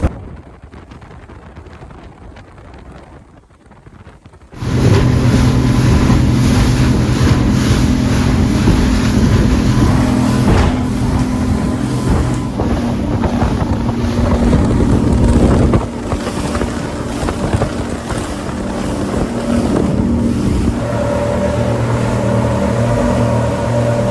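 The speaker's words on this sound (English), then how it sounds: "Waves now." Motorboat pushing through rough seas near the Florida Keys, a quiet stretch giving way to a loud, constant engine roar with wind buffeting and waves slapping the hull.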